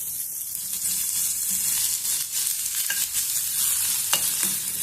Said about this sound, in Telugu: చింతపండుని కూడా బాగా కొంచెము వేగనిద్దాము ఆయిల్లో